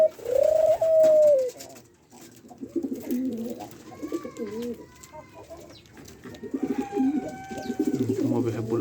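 A dove near its nest, with soft cooing calls and a few low warbling notes, close by and fairly quiet, mixed with light background noise.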